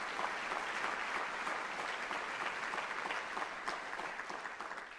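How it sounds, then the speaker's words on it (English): Steady applause from a sizable crowd at a college convocation, continuous and even throughout with no voices standing out. "please just give my staff a round of applause if you would"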